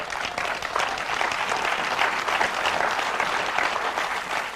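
Church congregation applauding at a Portuguese-language sermon, steady dense clapping from a large crowd sustained at even loudness throughout, close and full.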